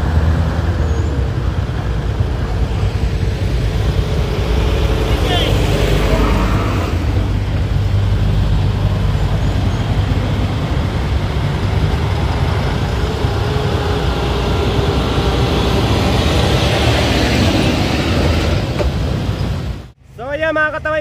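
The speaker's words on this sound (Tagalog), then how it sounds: "So dito po nakakaranas na rin po ng matinding traffic." Dense highway traffic on the Andaya highway in Lupi, Barangay Kulakling: a steady roar of car, bus and truck engines and road noise fills the whole stretch, with a voice talking over it and a brief clatter near the end.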